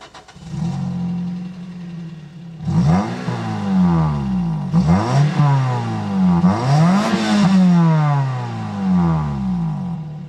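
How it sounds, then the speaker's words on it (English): A Pontiac Vibe GT engine revs hard several times in quick succession through its factory exhaust, pitch sweeping up and falling back, loud and close with a raspy exhaust tone. "considering it's the factory exhaust, it sounds pretty good. Listen."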